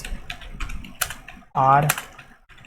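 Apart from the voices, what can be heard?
typing on a computer keyboard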